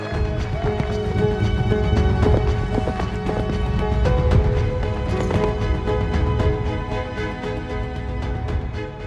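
A horse runs at a horse show, its hooves clip-clopping in a fast, driving rhythm over a loud, busy background with music-like tones and crowd ambience.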